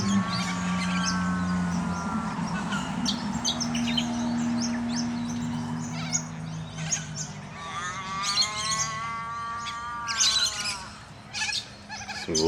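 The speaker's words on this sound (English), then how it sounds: "Some lorikeets just going into the tree." Lorikeets in Perth call as they fly into a tree, a dense continuous chorus of shrill chirps and squawks from many birds close by, with other birdsong mixed in throughout.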